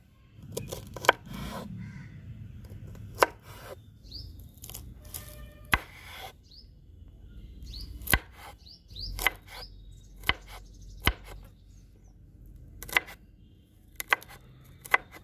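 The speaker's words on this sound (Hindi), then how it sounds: "पहले हम अपनी फूल गोभी को काट लेते हैं।" Cauliflower is chopped with a knife on a board, sharp isolated cuts spaced a second or two apart, close and crisp over a quiet background with faint birdsong.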